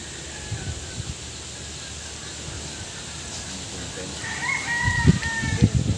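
A rooster crows and chickens cluck in the latter half, over a steady outdoor background with a few scattered knocks.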